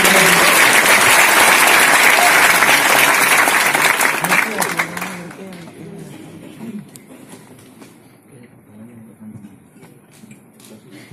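Loud, dense audience applause at a Gontor speaking event for Rocky Gerung, steady for about five seconds before thinning into scattered claps and murmurs.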